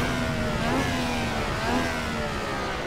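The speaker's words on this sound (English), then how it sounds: "it's our car echoing" Racing car engine in Assetto Corsa, played online in VR, droning steadily at high revs with a sustained tonal whine that rises and falls slightly, loud and continuous with no talk over it.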